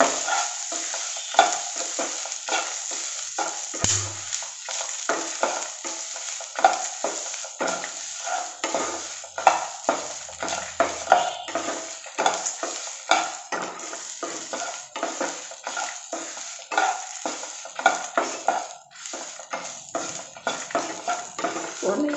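Grated coconut dry-roasting in a pan for a mushroom Chettinad masala, with steady scraping and stirring strokes, light sizzle and frequent metallic clinks of the spoon against the pan, close and continuous.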